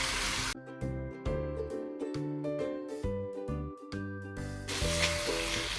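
Prawns frying in a pan for prawn thokku give a close, steady sizzling hiss at the start and again at the end, with tonal background music filling the stretch between.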